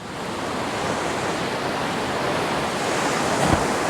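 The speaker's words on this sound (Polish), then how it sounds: "Zresztą tutaj też zobaczcie sobie jak to wygląda, bo idzie teraz jakaś większa fala." Large storm waves crash against rocks on the Dubrovnik coast, a loud continuous roar of surf with a heavier thump near the end.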